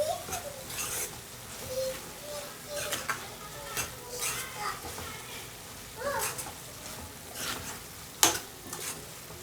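A spoon scrapes and clanks around a pan of frying dried prawn and tomato curry as chili powder is mixed in, irregular metallic stirring over a low sizzle with a voice speaking intermittently.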